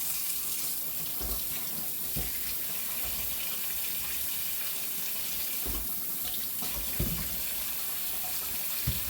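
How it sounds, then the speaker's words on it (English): Tap water runs steadily into a sink while small potatoes are washed under it, with a continuous close splash and a few soft knocks and thumps of handling. "We're going to get them washed off and get them into the crock pot."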